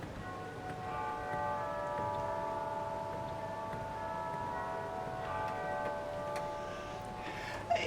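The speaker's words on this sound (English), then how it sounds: "Even cathedral chimes." Cathedral chimes sound on the Wurlitzer theatre organ at Blackpool Tower, sustained bell-like tones ringing steadily and softly over several seconds, with no talking.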